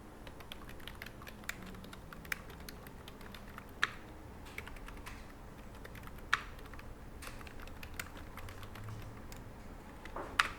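Steady typing on a computer keyboard while text is entered into a drawing program, quiet clicks with a few louder key strikes, continuous and close with no voices.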